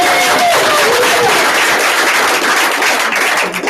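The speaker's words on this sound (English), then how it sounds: "Give him another round of applause." A crowd applauds at a public meeting, giving another round of applause to someone in the room: loud, continuous clapping that fills the whole stretch, with a few faint tonal squeaks early on.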